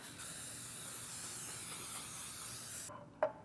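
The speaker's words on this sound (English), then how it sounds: "grab a muffin tin and your non-stick cooking spray. And I'm just going to spray half" A steady spray of non-stick cooking spray hisses continuously for about three seconds into a muffin tin, then stops abruptly, followed by a single light clink of metal.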